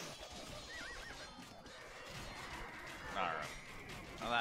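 Horses neigh and whinny amid a strategy video game battle, with hoofbeat clip-clops and busy game noise throughout, ending in louder whinnies near the end while a voice talks over it.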